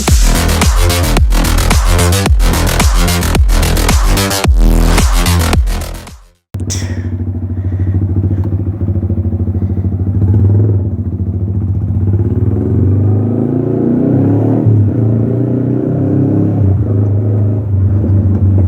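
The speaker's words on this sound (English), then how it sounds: "Here's a cold start MT-15." A Yamaha MT-15 motorcycle fires up from cold with a loud, close engine, then settles into a steady, throbbing idle that keeps running with no one talking.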